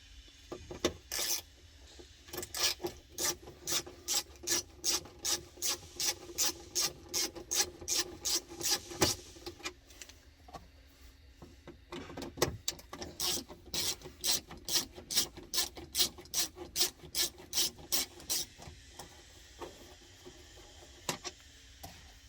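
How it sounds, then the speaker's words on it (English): Screws being turned out during installation of an Intellishift cab, heard as a long run of rapid, evenly spaced ratcheting clicks from a hand tool, close and fairly loud, pausing briefly midway before a second burst. "Then take these two screws out here."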